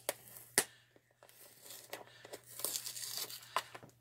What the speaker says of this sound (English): I'm going to peel the sticker